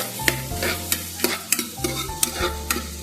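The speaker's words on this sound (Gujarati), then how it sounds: "એની અંદર હું સૌથી પહેલા ઝીણી સમારેલી ડુંગળી એડ કરીશ નથી કરવાનું ખાલી લાઇટલી સેલો ફ્રાય કરવાનું છે" Finely chopped onion shallow fries lightly in hot oil, a steady sizzle broken by sharp scraping clicks of a spoon stirring against the pan, close and fairly loud.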